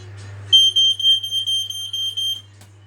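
A carbon monoxide alarm sounds during a walk test, giving one loud, shrill, piercing electronic tone that holds for about two seconds with a slight warble, then cuts off.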